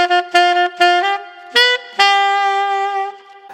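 A saxophone plays a short unaccompanied funk phrase, a few clipped staccato notes followed by a longer held tone, loud and close with no backing track.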